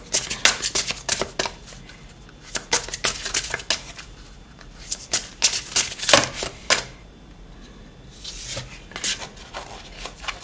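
A deck of divination cards is shuffled up close in repeated bursts of crisp riffling and flapping, with short pauses between rounds.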